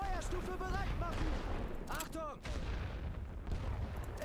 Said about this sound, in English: They are hurting me with artillery